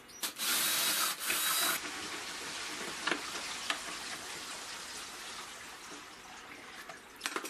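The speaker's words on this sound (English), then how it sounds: "I'll make a 1/4 inch hole up here to store the fence bolt" Drill boring a 1/4 inch hole in a wooden router fence for a table saw, with a loud high whine in two short bursts at the start, then softer scraping and clicking as the work continues.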